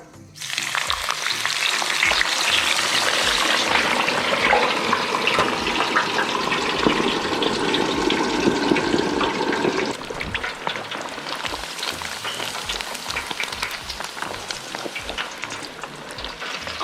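Ribeye steaks drop into hot deep-frying oil and set off a loud, violent crackling sizzle that spreads wide. After about ten seconds it settles into a steady, busier bubbling hiss, all close and with no talking.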